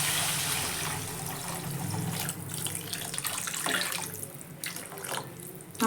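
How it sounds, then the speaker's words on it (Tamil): Water pours steadily into a pan with carrots for samba rava kichadi for several seconds, a continuous rushing splash that shifts slightly in tone, with no voices. "இப்போ தண்ணி சேர்த்துக்கிறேன்."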